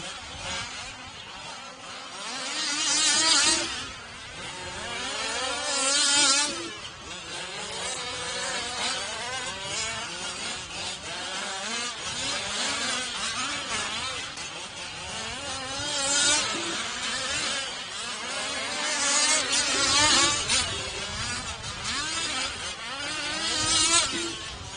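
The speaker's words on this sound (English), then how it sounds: "Heat number 2 of this scale buggy underway." Several 1/5 and 1/8 scale RC buggies race around a dirt raceway, their small engines buzzing and whining continuously, with pitch rising and falling as they swell past close by and fade off around the track.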